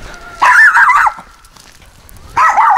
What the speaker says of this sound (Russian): Хорош гавкать.